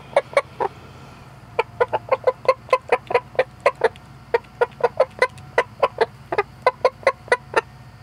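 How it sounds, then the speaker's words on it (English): Icelandic chickens cluck in quick, close, repeated bursts, a steady run of short loud calls from a homestead flock with no talking. "The Icelandic chickens love to roost high."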